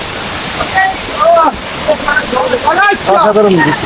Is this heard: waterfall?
yes